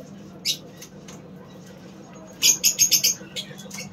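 Lutino Fischer's lovebirds give sharp, high chirps: a lone call, then a quick burst of about five rapid tweets over a low background hum.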